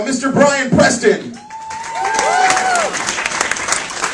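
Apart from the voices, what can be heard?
audience applause at a comedy show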